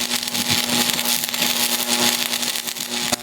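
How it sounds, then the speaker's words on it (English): A Miller Thunderbolt stick welder runs 6013 rods on 1/8-inch steel lap joints outdoors on a portable table, with a steady low hum under dense crackling and sizzling arc spatter, loud and continuous. "You can hear that Miller Thunderbolt groaning in the background"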